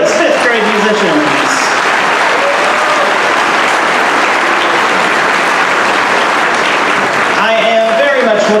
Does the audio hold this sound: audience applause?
yes